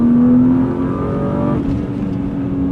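Inside a modified BMW 328i E36, the engine drones loudly under acceleration with a steady rising tone, easing briefly before pulling on again.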